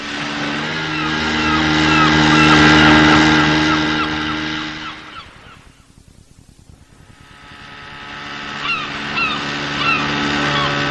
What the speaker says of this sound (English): Gosh, listen to those birds.